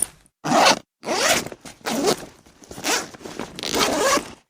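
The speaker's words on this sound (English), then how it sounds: "Sounds like someone's putting a bunch of stuff into their backpack and zipping it up." A backpack is stuffed and zipped shut: five separate zipper runs, the first short, then longer strokes with gaps between, close and clear with no talking.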